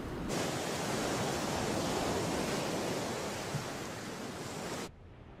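Steady broadband wash of sea waves, a continuous rushing roar with no distinct breaks, fairly loud and close, cutting off abruptly near the end.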